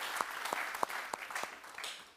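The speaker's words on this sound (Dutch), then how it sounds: "Je krijgt nog een applaus." Brief renewed clapping from a conference audience in Amsterdam, a handful of distinct claps standing out over a soft wash of applause that stays fairly quiet and short.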